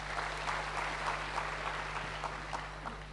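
Church congregation applauding during an Indonesian sermon, a steady, moderately distant wash of many hands clapping over a low constant hum.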